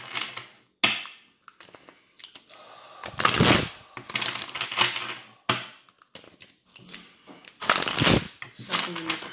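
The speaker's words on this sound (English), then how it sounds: "Shuffle the cards." Tarot cards being shuffled in repeated bursts of riffling and flapping, loud and close, with short pauses between, during a tarot reading session.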